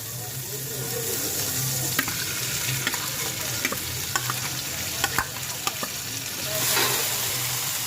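Pork and beans hit a hot pan and are stirred, giving a steady loud sizzle with scraping utensil clicks throughout and a brief swell of bubbling near the end.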